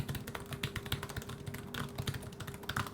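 Rapid, steady clicking of keys on an HP EliteBook x360 laptop keyboard, close up and continuous, with no talking.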